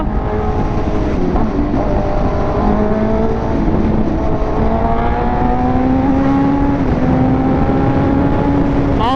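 A 1000cc Suzuki GSX motorcycle engine revs loudly and steadily close by, pitch rising and falling in sweeping tones with crackling exhaust pops underneath.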